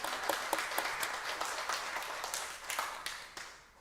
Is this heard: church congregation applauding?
yes